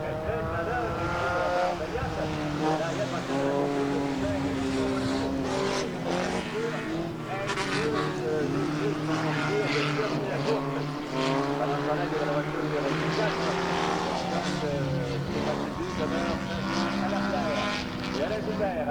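Race cars circling the oval at Autodrome Rive Sud during a 1991 summer race, engines whining and droning at a distance with rising and falling passes, under continuous commentary.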